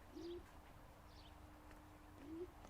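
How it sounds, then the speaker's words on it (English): Pigeons cooing in the video game L.A. Noire: two low, soft coos near the start and end over a quiet background hum, faint and fairly distant, with no talking. "Pigeons are making noise."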